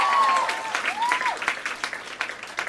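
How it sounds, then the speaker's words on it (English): Round of applause from an audience following a Tiny Desk performance, dense steady clapping at moderate distance with faint voices mixed in, fading slightly toward the end. "Give a round of applause to NPR for putting this whole thing on."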